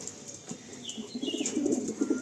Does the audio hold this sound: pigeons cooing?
yes